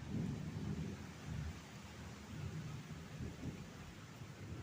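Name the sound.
thunder rumbling during rain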